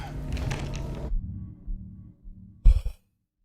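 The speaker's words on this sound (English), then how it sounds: "It was someone beating on the stall and gasping in a panic." Panicked gasping and breathing from someone trapped in a stall in Silent Hill 2, a dense burst of heavy sighs, then quieter thumps and a short sharp gasp before the sound cuts to silence.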